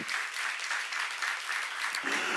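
A church congregation in a Korean Bible-study class bursts into brief, dense applause, a short burst of many hands clapping together at a steady level.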